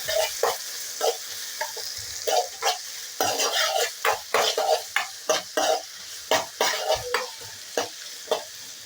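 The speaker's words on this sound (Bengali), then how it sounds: "কেটে রাখা পেঁয়াজ, টমেটো, রসুন এগুলো আমি ভেজে নেব।" Onion, tomato and garlic fry in a pan on low flame while a utensil stirs them, giving repeated scraping strokes in an uneven rhythm over a continuous close sizzle.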